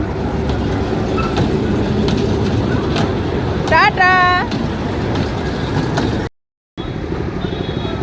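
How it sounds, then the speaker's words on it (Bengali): A small children's ride train in a park rumbles steadily nearby in the evening, with a brief high tonal squeal partway through and a voice speaking briefly over it. "ওই তো আসছে ট্রেন"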